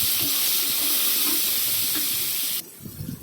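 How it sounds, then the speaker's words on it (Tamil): Tomatoes sautéing in a pan give a loud, steady sizzling hiss with light stirring touches, cutting off abruptly near the end and leaving quieter rustling. "தக்காளியும் நான் கொஞ்சம் நல்லா வதங்கி வரட்டும்"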